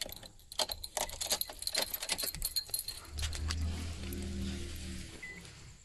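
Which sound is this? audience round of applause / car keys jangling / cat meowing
car keys jangling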